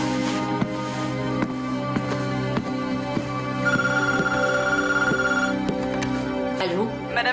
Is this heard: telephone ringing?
yes